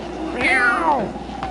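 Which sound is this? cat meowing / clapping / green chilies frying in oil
cat meowing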